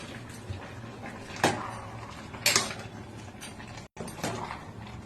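Chilli chicken being stirred in a cooking pan, with a few scraping and clinking strokes of a utensil against the pan at an unhurried pace over a faint background.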